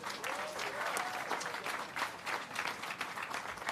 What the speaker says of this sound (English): How about a big round of applause for the Hollywood Chamber of Commerce